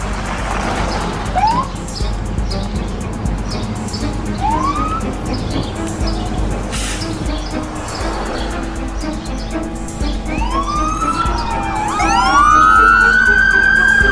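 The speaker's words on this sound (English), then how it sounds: "Outside, they heard the sirens of more and more police surrounding the perimeter." Several police sirens wail and rise in overlapping sweeps, starting faint and growing louder and closer over a steady traffic rumble.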